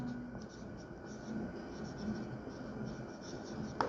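Chalk or marker scratches faintly on a board during a physics lecture on Coulomb's law, a soft continuous writing sound over steady room hum with no clear speech.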